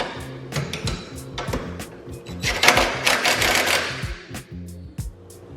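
A tool tightens the computer bolts on a Dodge Hellcat PCM bracket in a garage, giving rapid mechanical ratcheting bursts in short repeated runs, close and fairly loud, with brief pauses between.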